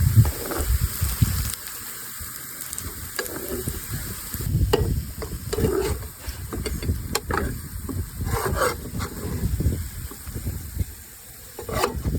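Sliced onions fry in hot oil in a pan, a steady close sizzle broken by scraping and stirring clatters from a utensil, with crackling bursts rising and falling throughout.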